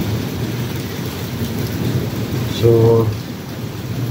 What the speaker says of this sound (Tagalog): Maulan na morning dito sa Saudi. May kulog, may kidlat.